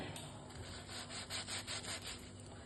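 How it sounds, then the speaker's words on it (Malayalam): A knife cuts through a slice of fried bread with a few quick, rhythmic rasping strokes, close and fairly quiet, with no talking. "ഒരു ബ്രെഡ് എടുക്കാം ഒന്ന് ഇവിടെ ഒന്ന് കട്ട് ചെയ്ത് വെക്കാം"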